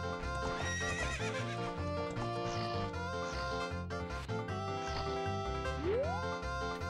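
A horse neighs in the video game The Legend of Zelda: Ocarina of Time, its whinny rising over loud, continuous game music with clip-clopping hooves.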